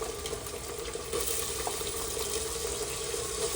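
Tomatoes, beans and carrots rinsed under a running kitchen tap, a continuous close splashing stream that grows a little louder after the first second, with no talking.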